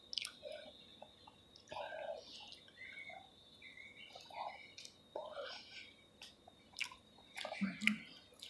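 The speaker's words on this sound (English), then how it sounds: "so let's eat some natural fries" Natural fries with cheese from Taco Bell being eaten up close, with soft, intermittent chewing and crunching at low volume and small mouth sounds between bites.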